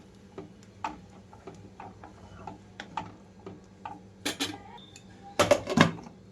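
A lid set down onto a cooking pot of soaked millets and chana dal on low flame, giving a couple of sharp metallic clinks and rattles near the end among scattered small kitchen taps and clatter.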